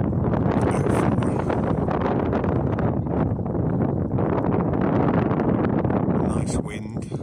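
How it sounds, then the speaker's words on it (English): Steady wind blowing outdoors in the evening near buildings at sunset, a continuous broadband rush buffeting the microphone throughout at fairly loud level. "Nice wind."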